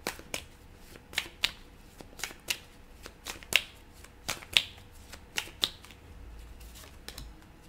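Tarot cards being shuffled by hand in a quiet room, a rapid series of sharp riffling snaps and flicks up close, irregular in rhythm, with no talking.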